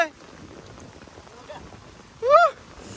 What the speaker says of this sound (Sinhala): වහිනවා වැස්සක්